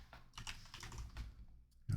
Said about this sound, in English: Gotta make sure I'm typing this in the right chat.